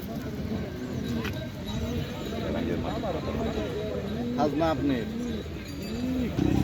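Giribaz pigeons at the Taherpur pigeon market give repeated soft cooing calls, several overlapping, amid busy market chatter and people talking close by.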